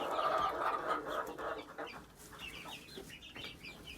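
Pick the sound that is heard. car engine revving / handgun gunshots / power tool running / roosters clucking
roosters clucking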